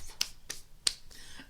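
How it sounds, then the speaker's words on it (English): A few soft, polite golf claps, sparse and evenly spaced, quiet and close with no talking. "Golf clap."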